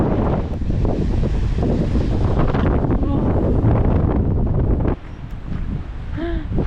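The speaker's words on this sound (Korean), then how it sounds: "지금 바람 불면 이렇게 물살 이렇게 팍팍팍 나오거든요" Strong wind buffets the microphone while waves surge and splash against rocky shore in a national park in Ireland, a loud continuous roar that drops slightly near the end.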